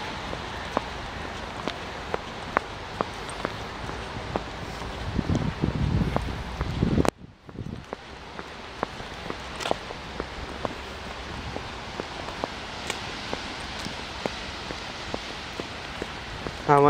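Rain falling in a deserted park, a steady soft patter with scattered sharp drops hitting nearby surfaces. A brief louder rustle and a sudden drop in level come partway through.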